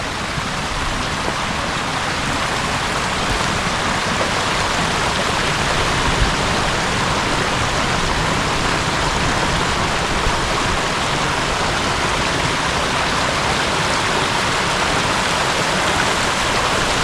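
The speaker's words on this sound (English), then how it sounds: "So the creek is running" A creek runs strong near an off-grid cabin in Vermont, a loud, steady rushing of water that fills the whole stretch with an even, continuous roar and no voices.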